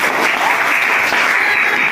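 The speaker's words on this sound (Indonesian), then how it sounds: "Kita beri tepuk tangan kepada kelompok 5." A classroom audience claps in loud, continuous applause for a student group about to present physics lab results, steady and dense throughout with no speech.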